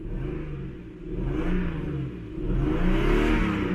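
A Lexus GS300 engine with a dead misfire idles roughly and revs up twice, a low uneven drone that swells and falls close by with no one talking.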